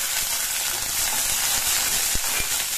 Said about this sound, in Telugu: ఇంకా ఘీ వేడైందండి, నేను ఫస్ట్ గ్రీన్ చిల్లీ వేస్తున్నాను